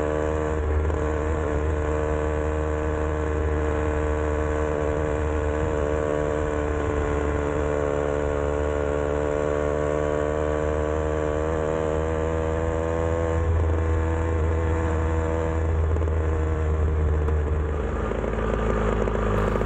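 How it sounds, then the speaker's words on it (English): A motorbike engine idles steadily up close, set too high while the idle is being adjusted, a low continuous drone with a slight rise in pitch midway, no voices. "I'm adjusting the idle here because it was just idling way too high."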